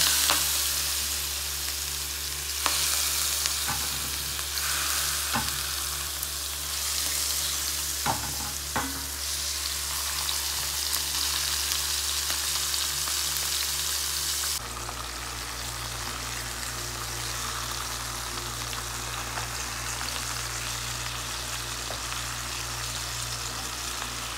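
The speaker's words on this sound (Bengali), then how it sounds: "এখন মাছটা আমরা ভেজে নেবো" Rohu fish sizzles loudly and continuously in hot oil, with a few sharp clinks of a utensil; the frying tone shifts slightly partway through.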